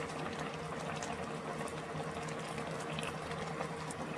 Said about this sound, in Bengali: তো মাছগুলো দিয়েই কিন্তু আমি আরও কিছুক্ষণের জন্য ভালো করে ফুটিয়ে নেব